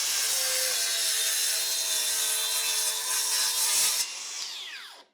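A Makita KS003G/KS004G 125mm compact cordless circular saw cuts through oak hardwood with a loud, steady high-pitched whine for about four seconds, then the blade spins down and fades to silence.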